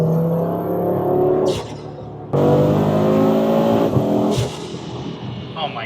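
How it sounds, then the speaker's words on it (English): An Audi RS3 (8Y) with a Unitronic 4-inch inlet and 5-inch open intake revs hard in two loud bursts, with rising harmonic engine tone, a brief drop between them and intake whoosh at each peak; no talk over it. "Oh my gosh, guys, this thing sounds insane."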